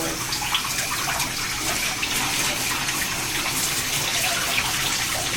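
Running water pours steadily over a person's back during a bath in a bathtub, a continuous close splashing rush with no talk.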